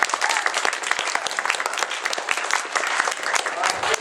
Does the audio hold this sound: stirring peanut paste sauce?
no